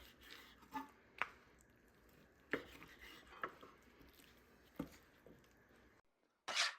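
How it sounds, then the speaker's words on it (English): A knife chops fatty-end beef brisket into cubes on a cutting board, with sharp, distinct thunks spaced irregularly, close up and fairly quiet, ending on a louder final cut after a brief pause. "Cutting it into cubes will help it cook quicker."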